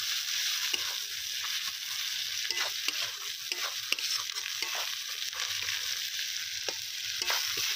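Ginger garlic paste fries in a pan over an outdoor village cooking fire, a bright continuous sizzle with intermittent scraping stirs, close and steady, no talking.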